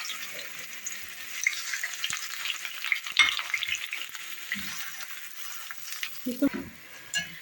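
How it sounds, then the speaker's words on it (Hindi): Onions sauté in a pan for a keema and bitter gourd dish, a soft steady sizzle and hiss with occasional stirring clinks and scrapes, fairly quiet and close, without speech. "मैं इसमें थोड़ा प्याज डालूँगी, मुझे अच्छे लगते हैं, ये मैं इसमें डाल रही हूँ, सोते कर रही हूँ"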